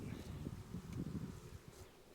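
A honeybee swarm is being removed into a hive, and the bees give off a faint, steady, low buzzing hum with soft rustling and no voices.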